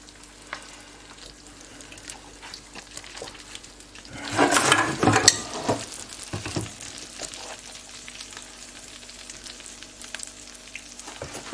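Lasagne sauce sizzles in a pan, a quiet background hiss that swells into a loud burst of frying and stirring midway, then settles back to a softer crackle.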